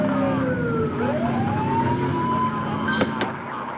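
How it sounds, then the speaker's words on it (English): A police siren in the video game The Precinct wails up and down over a rumbling vehicle engine, with a brief sharp click near the end. "Get on their tail and flip the siren."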